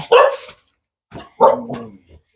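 Dog barking outdoors near a temple in Pattaya, Thailand, giving a few sharp, loud barks close by in two short bursts with a pause between.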